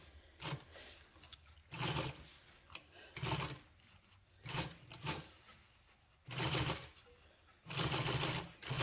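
Sewing machine stitching vinyl seat cover material for an EZGO or Club Car golf cart, running in several short bursts with pauses between, close and fairly quiet, with no talk over it.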